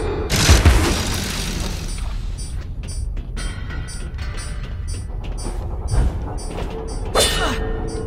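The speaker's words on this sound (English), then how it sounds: "Detonate the clockwork bomb and to destroy the weak surface" A clockwork bomb explodes in the video game Alice: Madness Returns. One loud, deep blast near the start is followed by ongoing game sounds with mechanical clatter and a few softer thuds. Another sharp burst comes near the end.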